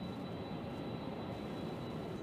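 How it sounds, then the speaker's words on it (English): A Boeing 767 cargo plane passes at Louisville's UPS airport, a steady broad jet roar sustained throughout without pause, heard from a fair distance and fairly quiet. "Holy cow, that plane was loud."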